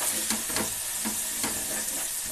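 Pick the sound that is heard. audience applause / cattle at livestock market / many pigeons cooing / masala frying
masala frying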